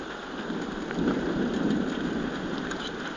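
A strong summer thunderstorm in Moulins, with dense rain drumming steadily while a deep, rolling rumble of thunder swells in the middle and then fades, no one speaking.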